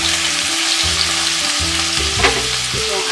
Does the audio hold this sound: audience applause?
no